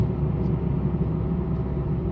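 A 2024 Mitsubishi Mirage engine held at high revs after a downshift on a mountain drive, a steady, loud droning rumble heard from inside the car with no break.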